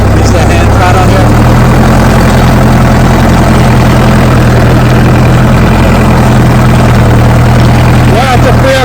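A Case 580CK backhoe engine idles on hand throttle, giving a loud, heavy, even rumble from near by that holds steady the whole time, with someone speaking over it briefly.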